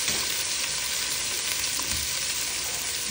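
Garlic fries in hot oil for beef congee, a steady close sizzle and hiss with light crackles and no talking.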